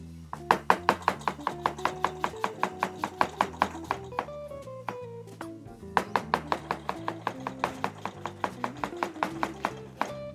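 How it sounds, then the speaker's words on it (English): A sharp chef's knife thinly slicing onions on a board, close and steady: dozens of quick, even knife strokes in a brisk rhythm, with a brief pause in the middle before the slicing resumes. "we're going to thinly slice the onions"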